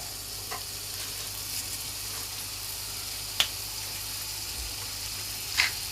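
A steady, soft sizzle of burger patties frying in a pan, with a couple of faint clinks over the continuous crackle.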